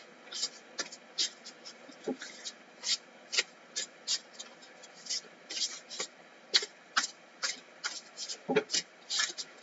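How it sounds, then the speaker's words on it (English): Cards from a Woodland Wardens oracle deck being shuffled by hand, close up, giving a steady run of soft papery riffles and slaps with brief pauses between bursts. "Ooh. I'm shuffling"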